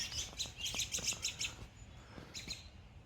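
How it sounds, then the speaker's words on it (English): A flock of birds chirps outdoors by a garden pond, rapid overlapping tweets in quick bursts that thin out and then return, fairly faint and distant, with no talking. "That was like 50 birds."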